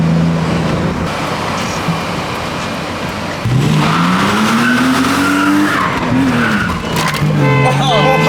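A peppy small car takes a tight little turn fast at about 50, its engine note climbing while the tyres squeal loudly up close, with voices talking over it.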